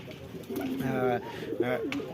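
Pigeons coo in a couple of throaty, rolling bursts nearby, fairly clear over a quiet background.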